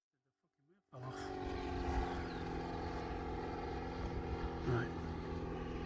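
Seagull Lysander RC model airplane engine at low throttle, a steady buzzing drone starting abruptly after a brief quiet moment, fairly close, with a short spoken word near the start.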